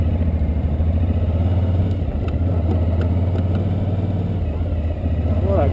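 A Suzuki V-Strom motorcycle rides along a road with a continuous low engine drone and wind rumble. The engine stays steady and close throughout.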